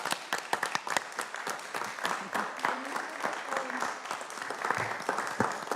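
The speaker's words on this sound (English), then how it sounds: "So big applause for Maya." A room at a school committee meeting breaks into applause, a dense, steady patter of many hands clapping at moderate distance, continuous for several seconds with faint voices underneath.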